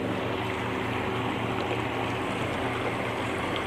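Outboard motor on a boat with a propeller, running steadily at speed on a lake: a loud, continuous engine drone with water and wind rush, unbroken throughout.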